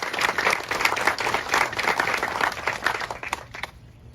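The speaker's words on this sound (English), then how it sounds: "So how about a round of applause for that?" Audience applause at a new office ribbon cutting for a community foundation, steady dense clapping from a crowd that fades out near the end.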